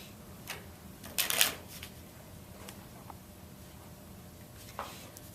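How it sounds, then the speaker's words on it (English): Large-print deck of playing cards shuffled once in a short riffling burst, then quiet handling sounds, close and faint, no talk. "Shuffling up the deck so that hopefully these cards are as mixed up as I am."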